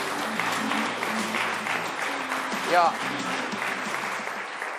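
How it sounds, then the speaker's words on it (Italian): Audience applauds three athletes, a steady round of clapping at moderate volume with a brief voice cutting in partway through. "Bene, allora facciamo un applauso ai tre atleti."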